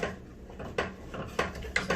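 Homemade playdough mixture stirred hard in a bowl, a spoon knocking and scraping in a steady series of sharp, close clunks against a quiet background.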